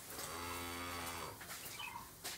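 A cow lets out one long, loud, drawn-out moo on a dairy cattle farm where Friesian cows and calves are kept, the call fading near the end amid light farmyard background noise.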